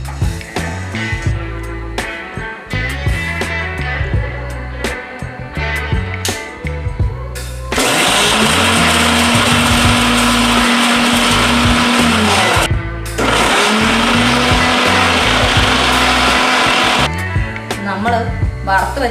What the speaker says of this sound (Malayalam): നമ്മൾ വറുത്ത് വെച്ചേക്കുന്നത് നമ്മൾ പൊടിച്ചെടുത്തിട്ടുണ്ട് മിക്സിക്കകത്ത്